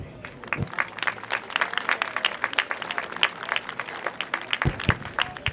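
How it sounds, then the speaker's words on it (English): An audience applauds seniors at a high school varsity baseball game on senior night, steady scattered clapping from a moderate crowd outdoors, fairly distant and continuous throughout. "please join me in a round of applause for these gentlemen"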